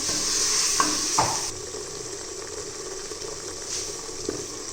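A small splash of water poured into a hot cooking pan with salt, black pepper, dried coriander and dried chillies for mutton paya; a loud hiss and sizzle at first, then settling into a softer steady bubbling with a couple of light clinks.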